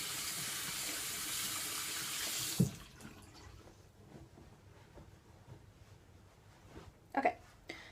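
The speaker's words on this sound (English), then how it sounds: "I'm going to really quickly wash off my hands" Hands being washed under a running faucet make a steady rush of water for the first few seconds, then it stops, leaving quieter dripping and handling noises and a brief splash near the end.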